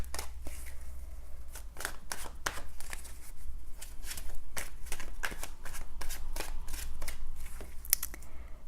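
Tarot cards being shuffled by hand, a close run of crisp riffling flicks and soft slaps repeating in quick bursts over a low steady hum.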